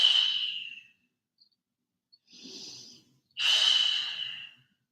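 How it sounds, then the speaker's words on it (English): Two forceful, squeezed yoga exhales driven by the abdominal muscles during a morning flow, each a loud close hiss about a second long, with a softer breath between them and near silence in the gaps. "Squeezing the exhale. Abdominal muscles work to wring out the breath."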